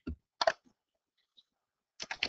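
Calculator buttons are pressed in short, sharp clicks, a single tap and then a quick pair, a pause, then a rapid run of three, close and clear in a quiet room.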